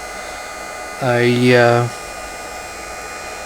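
A popcorn maker's hot-air blower spins up with a sharp rising whine, roars loudly for about a second, then cuts off, leaving a low background hum.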